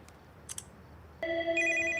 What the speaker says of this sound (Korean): 그때 보란듯이 길목에 놓인 핸드폰에서 전화가 울립니다